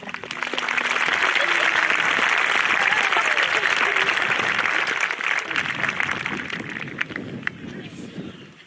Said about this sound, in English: Please join me in a round of applause for Mr. Homer Bennett